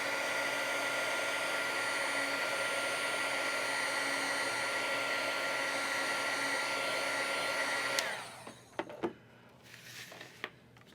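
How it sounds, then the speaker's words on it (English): A heat tool blows hot air to dry alcohol marker ink on a handmade card, a loud steady whooshing roar that cuts off abruptly, leaving a few faint clicks and handling sounds. "I am going to just use a little bit of my heat tool to heat it up and make sure it's nice and dry."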